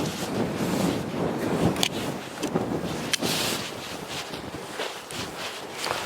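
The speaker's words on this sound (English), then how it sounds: "Wow, it's windy." Strong gusting wind buffets the microphone outdoors on a walk in a park, with a loud, rough rumble and occasional sharper gusts, footsteps faintly beneath.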